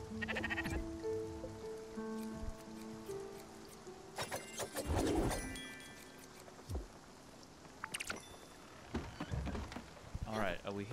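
Sheep bleat in the Spiritfarer video game, short bleating cries scattered across the clip over a soft rain-like background, with game music tones and occasional voice-like sounds.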